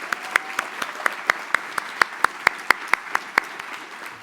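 Audience applause at a college scholarship banquet, crisp, sharply defined claps in a steady, even rhythm over a softer bed of crowd clapping, near and fairly loud.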